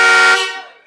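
A loud air horn sounds a single blast in an April Fools prank, starting strong and fading within about half a second before a new sound cuts in.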